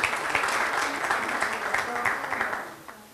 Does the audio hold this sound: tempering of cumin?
no